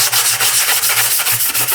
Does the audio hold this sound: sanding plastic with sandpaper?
yes